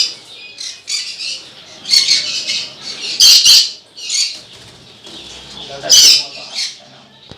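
A pair of pineapple conure parrots squawk loudly and close by in a home bird setup, harsh calls coming in uneven bursts with short pauses and a few softer chirps between them.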